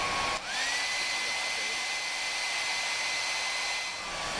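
A hair dryer on its low setting whirs steadily at close range, its airflow a constant broadband hiss with a faint motor whine, after a brief click as it starts.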